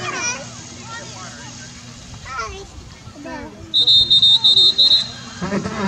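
A referee's whistle at a youth football game sounds as a run of short, shrill blasts partway through, over children's voices and a background crowd.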